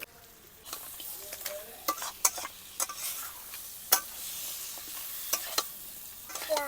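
Crab pieces and potatoes fry in hot oil in a village-style kitchen, a steady soft sizzle broken by repeated scraping clicks of a spatula stirring the pan, close and alone with no voices.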